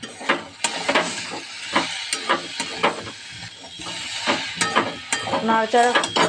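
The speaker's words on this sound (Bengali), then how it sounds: "ভাজা আলু বেগুন সব একসঙ্গে দিয়ে ভালো করে নাড়াচাড়া করতে হবে।" Fried potatoes and eggplant are stirred together in a pan, with repeated scraping and clacking strokes at an uneven rhythm over a soft background sizzle, close by, and a brief voice near the end.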